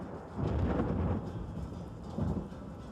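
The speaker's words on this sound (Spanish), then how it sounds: "en medio de una tormenta infernal, una tormenta terrible" Heavy thunderstorm with deep rolling thunder rumbles swelling twice over a steady wash of rain, loud and close with no voices.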